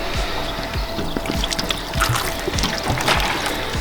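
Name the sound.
water poured onto car paint treated with liquid wax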